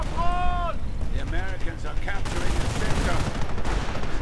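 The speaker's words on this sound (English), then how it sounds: "Sniper fire on the engineers" Gunfire from a World War II strategy video game, with shots and crackling bursts over a noisy battle din, mixed with whistling, swooping tones and a voice talking over the action.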